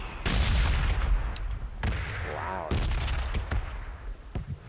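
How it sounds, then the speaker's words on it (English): Red zone bombardment in PlayerUnknown's Battlegrounds, with several separate loud impacts striking a few seconds apart, each a sharp crack followed by a rumbling tail and faint debris. "Mortar field, if you want to say that."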